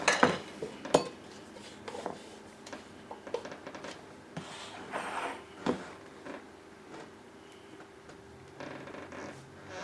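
Chunky sunflower seed butter being scooped into a measuring cup, with soft scraping and clinking of a utensil against the cup, scattered thumps and a few sharper knocks, close and fairly quiet, with no voices.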